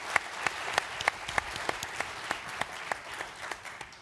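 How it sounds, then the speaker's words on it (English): Applause from an audience at an innovation event, with distinct sharp claps standing out at a quick, uneven rhythm over a softer crowd of clapping. "Give him a round of applause."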